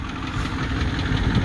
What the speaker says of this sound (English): she is just chugging along